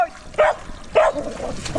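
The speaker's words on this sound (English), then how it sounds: "Joy barks excitedly from the front of his boat" A dog named Joy barks from the front of a wooden boat on the water, two or three sharp, excited yips with short pauses, fairly close.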